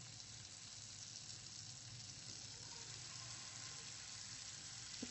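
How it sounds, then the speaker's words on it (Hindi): A chicken burger patty frying in a pan for Pakistani street-food egg burgers, giving a constant, even sizzle from start to finish with no talk. "अब मैं इसको फ्राई कर रही"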